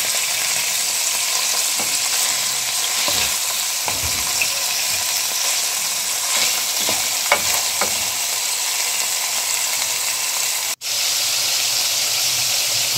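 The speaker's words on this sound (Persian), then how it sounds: "مرغامون که داره سرخ میشه، هر طرف 5 دقیقه بمونه بس" Chicken pieces frying in a pan, a loud, steady hissing sizzle with faint pops and crackles that continues throughout, briefly cut to near silence once near the end.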